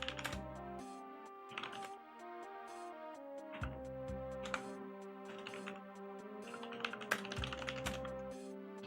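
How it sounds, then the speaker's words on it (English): Steady typing on a computer keyboard, with bursts of key clicks layered over background game music, close and fairly quiet, no talking. "So ignore the typing that you hear."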